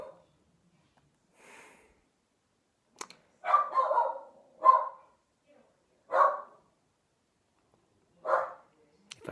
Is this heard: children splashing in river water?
no